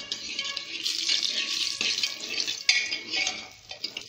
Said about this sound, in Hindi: तेल हमारे यहाँ पे गरम हो चुका है, हम सोयाबीन बड़ी फ्राई करेंगे यहाँ पे।